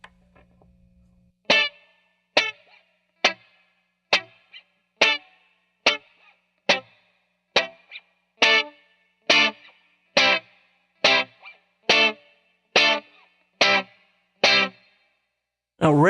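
Reggae guitar skanks played through a Blackstar amp with effects, sounding as a steady series of about fifteen short, evenly spaced chord stabs with a bright, pulsating, modulated tone, close and loud with no talking.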